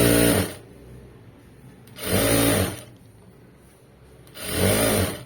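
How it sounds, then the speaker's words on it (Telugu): A sewing machine stitching cloth during tailoring, three loud close bursts of rapid mechanical whirring separated by quiet pauses. "స్టిచ్ చేసుకుంటూ వెళ్ళిపోవాలి"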